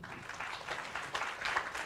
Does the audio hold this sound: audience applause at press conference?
yes